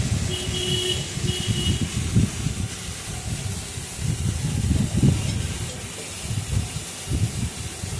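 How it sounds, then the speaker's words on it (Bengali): Taro greens dropped into hot oil with a hilsa fish head in a pan, giving a steady hiss and sizzle with bubbling, low crackles underneath, close and moderately loud, no talking. "এবার ওই তেলে আর মাথার মধ্যেই আমি কচুর শাকগুলো দিয়ে দেবো।"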